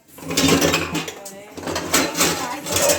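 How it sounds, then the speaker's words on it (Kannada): Dishes and pots clatter and scrape steadily as a large pile is washed by hand, with a voice talking over the washing throughout. "ಪಾತ್ರೆಗಳೆಲ್ಲ ಜಾಸ್ತಿ ತೊಳಿತಾ ಇದ್ದೀನಿ ನೋಡಿ, ಎಷ್ಟೊಂದು ಪಾತ್ರೆಗಳು"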